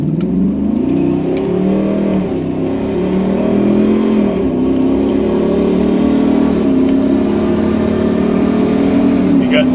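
A 2007 Jeep Wrangler fitted with a 5.7 Hemi V8 and an 8-speed transmission accelerates hard, its loud close engine drone climbing in pitch and dropping back at each gear shift.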